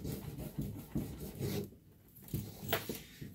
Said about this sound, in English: at first I kind of use the wax to burnish everything